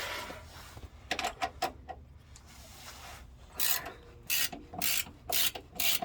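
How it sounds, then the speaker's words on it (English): A ratchet speed wrench works van bolts on a lifted Chevrolet Astro van while shock absorbers and greasable shackle bolts are being fitted, giving close rapid clicking bursts that grow louder and more rhythmic toward the end. "I love these speed wrenches. Ratchet wrenches"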